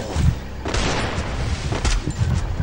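Gunfire crackles through a shooting video game round, with repeated loud shots and booming bursts layered over a dense, continuous game soundscape.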